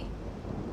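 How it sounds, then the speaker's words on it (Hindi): A thunder sound effect in a devotional drama: a brief, loud, low rumble lasting under a second, with broad noise and no voices. "कैलाश गरज रहा है महादेव"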